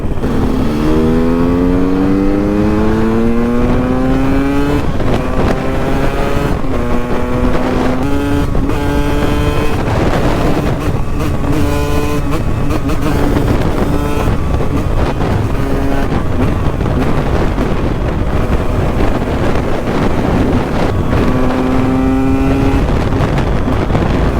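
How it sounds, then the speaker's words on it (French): A loud KTM 125 EXC motorcycle engine with a raspy FMF Shorty aftermarket exhaust revs up and shifts through gears repeatedly, with rising pitch sweeps and wind buffeting throughout. "Oh là là, le bruit du FMF!"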